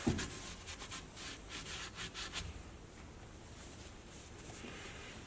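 A rag or cloth rubs excess paint off a carved catalpa wood Santa, giving a series of quick scratchy strokes in the first couple of seconds, then fainter rubbing that continues quietly to the end.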